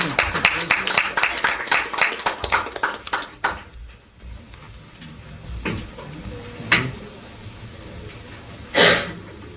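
At a council meeting, a short burst of hand clapping rings out in quick, loose rhythm for a few seconds, then fades into room noise with a few scattered thumps and shuffles.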